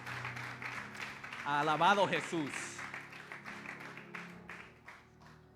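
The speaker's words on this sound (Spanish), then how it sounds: "Si el aplauso para Cristo se le pueden dar más fuerte a Él" A church congregation applauds steadily, a dense rattle of clapping heard throughout while a preacher's voice calls out over it.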